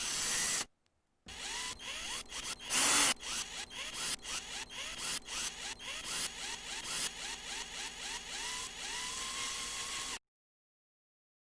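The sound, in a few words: recorded drill sound samples played in a DAW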